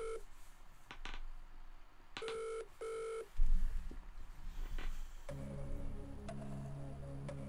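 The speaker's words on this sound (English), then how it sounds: "so I'm going to phone a friend." Phone-a-friend dialing effect from a Millionaire quiz game: a run of clear DTMF keypad tones, then a tense electronic sting with low pulses and sustained synth notes.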